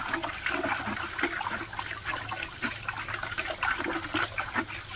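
Water is splashed and swirled in a pan while panning for fine flour gold in Wisconsin, producing continuous close sloshing and gurgling with no pauses.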